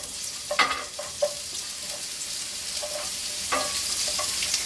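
Red onions frying in very hot oil for a shrimp stir-fry, a steady bright sizzle with a few stirring scrapes and clinks of the utensil, close and alone with no voices.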